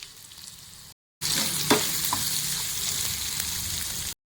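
Chicken fries with curry leaves in a pan, a quieter sizzle that drops out briefly, then returns as a loud dense crackle with a couple of stirring knocks, no talk.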